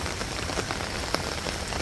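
Heavy rain pours steadily onto surfaces at an outdoor pension protest, a dense continuous hiss with occasional sharper splashes, close and loud with no voices.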